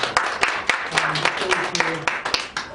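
Audience applause at a legal seminar on free-expression legislation, a steady patter of many hands clapping in a hall for a few seconds, with some speech mixed in.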